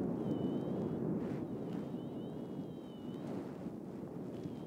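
Steady wind buffets the microphone during a paraglider's landing approach, a continuous low rushing roar with no voices.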